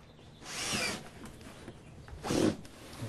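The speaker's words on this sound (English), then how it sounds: "Maybe you can drill over on this side and replicate that" A power drill bores into a plastic earthTainer container in two short, fairly quiet bursts, each lasting about half a second, separated by a quiet pause.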